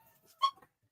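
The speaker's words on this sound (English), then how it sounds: "these damn dogs ain't gonna sit up in my damn house and bark" A single short dog bark inside a house, close and fairly clear, with a faint whimpering sound just before it and a short yip right after; no talk is heard.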